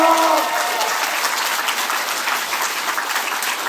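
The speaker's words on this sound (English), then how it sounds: "Clap it up, clap it up" Comedy club audience at an anime convention stand-up set applauding, a loud, dense wash of clapping that stays steady and close throughout, tapering only slightly.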